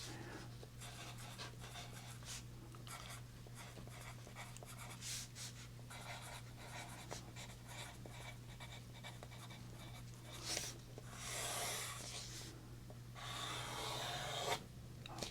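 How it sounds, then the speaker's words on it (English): Pen writing by hand on paper, with a steady scratching and rubbing that runs through the quiet, rising to louder rasping bursts near the end. "we're going to write this down for posterity"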